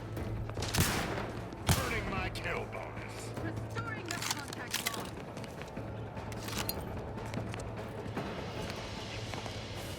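Gunfire in the video game Outer Worlds 2, sharp scattered shots and impacts over a busy game soundscape with footsteps and background noise, while people talk.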